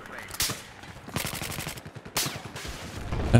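Bursts of automatic gunfire from a Battlefield 4 multiplayer match, rattling in two or three dense volleys with short gaps between them, fairly close and loud amid game noise.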